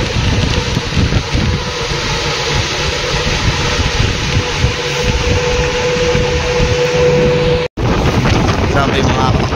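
Loud, blustery wind buffets the microphone almost continuously on a boat trip to San Andres pier, with the boat's hum underneath and a brief dropout near the end.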